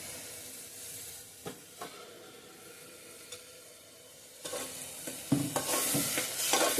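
Blended beetroot and tomato purée is sautéed for pav bhaji, with soft sizzling under scattered spoon scrapes and knocks against the pan, swelling into louder stirring and bubbling toward the end.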